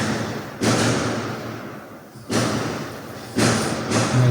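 Firework rockets go off nearby, producing three heavy booming thuds a second or so apart, loud and close, each trailing into a rumbling decay over a noisy background.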